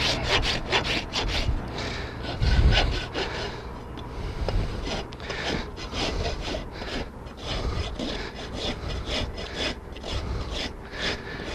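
Farrier working a rasp back and forth across a horse's hoof toe during trimming, a close, steady series of rough scraping strokes in an even rhythm with no talk.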